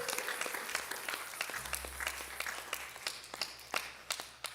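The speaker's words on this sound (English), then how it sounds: "And one big round of applause for Nico in the back doing sound." Scattered audience clapping during a live music stream, fairly faint and sparse, individual claps popping irregularly over low background rumble for a few seconds.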